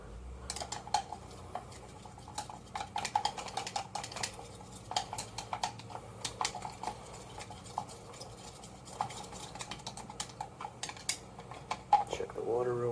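A mixing tool stirs a solution in a chemistry lab, giving repeated light clinks and scrapes against glassware, with steady faint background noise throughout.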